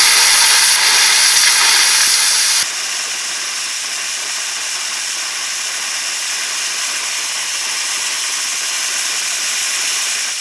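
Loud, steady hiss of steam venting continuously from the open cylinder cocks of an Accucraft C-18 model steam locomotive, briefly stronger at the start before settling into a constant rushing sound.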